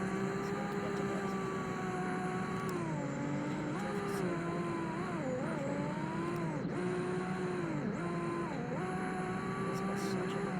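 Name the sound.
cars driving in video game CDT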